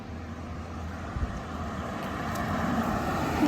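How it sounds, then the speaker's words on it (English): Outdoor wind near water buffets the microphone in a steady broadband rush. It swells slightly toward the end, with no voices. "But it is windy."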